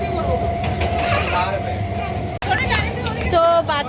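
Rumble of a moving passenger train carries steadily under lively talk from adults and children close by, with chatter nearly continuous over the rattling ride.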